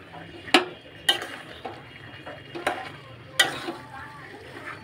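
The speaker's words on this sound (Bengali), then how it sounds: "এবারে আলু দিয়ে আমি ভালো করে নাড়াচাড়া করিয়া কষাইয়া" Spiced meat and potatoes being stirred and fried in a pan, a spoon scraping and clanking against the metal in a slow rhythm of sharp hits over a soft sizzle, close by.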